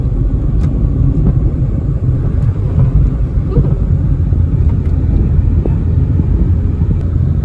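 Car engine running hard at high RPM while a learner drives, a loud continuous low rumble with steady roar and occasional faint clicks, no speech.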